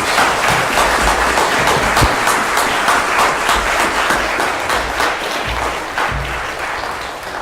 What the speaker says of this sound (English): Round of applause for these dramatic leaders.